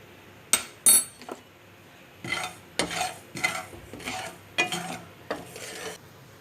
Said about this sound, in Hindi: अब मैं अलग से एक टीस्पून जो है कलौंजी को भूनूंगी हल्के से।